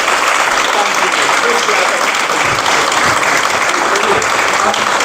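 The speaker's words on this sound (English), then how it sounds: "if you wouldn't mind all giving a big round of applause for this gentleman" Seminar audience at a combatives training day in a dojo applauds a certificate recipient, steady dense clapping filling the room throughout with some crowd murmur underneath.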